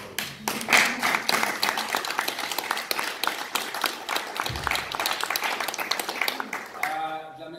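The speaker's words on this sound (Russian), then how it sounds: "давай просто даем себе аплодисменты" An audience at a gathering of Ukrainian community leaders in Sydney claps for itself, sustained dense applause lasting several seconds with a brief lull near the end, close and fairly loud throughout.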